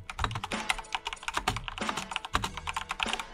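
Typing on a computer keyboard, a quick uneven run of crisp key clicks and taps, close and clear with no voices.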